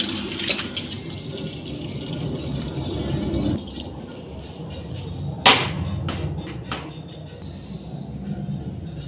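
Water poured into a pressure cooker holding pigeon pea pods in a home kitchen, a steady splashing fill for several seconds, then clinks and light knocks with quieter dripping.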